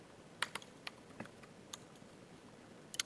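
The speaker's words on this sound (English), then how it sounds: "you can type in a database name" Faint, sparse keystrokes on a computer keyboard tap out a database name, a handful of soft clicks spread unevenly with gaps between them and no talking.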